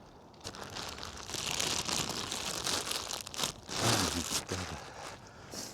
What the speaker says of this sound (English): The bloody plastic bag was stuck on my thumb then.